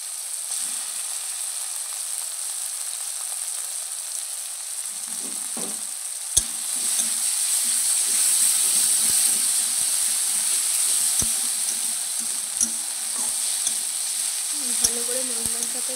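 Ginger garlic paste frying with spices in a pan for a village-style chela fish dish, a loud hissing sizzle that swells midway, with sharp spatula knocks against the pan and a faint voice near the end.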